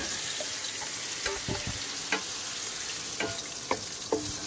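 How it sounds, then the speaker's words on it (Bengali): Potatoes frying in spiced masala in a pan: a steady hiss of sizzling with scattered light scraping and stirring clicks, close and moderately loud, with no talking. "মশলাটা ভালোভাবে কষাই করেছি, এবারে আলু দিয়ে দেবো।"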